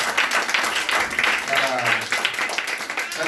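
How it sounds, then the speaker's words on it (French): A congregation applauding at a church gathering for a baby's presentation, brisk rhythmic clapping mixed with voices and cheering, fairly close and lively. "Acclamation pour le Seigneur."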